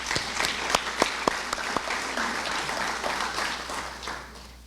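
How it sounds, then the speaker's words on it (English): A crowd at a candidates night in an arts and heritage center venue gives steady applause for the camera crew, with a few sharp nearby claps standing out early before the clapping gradually fades. "please join me tonight in giving them a round of applause"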